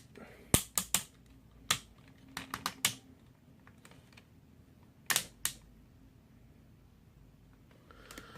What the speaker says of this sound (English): A lot of clicks and clacks with this guy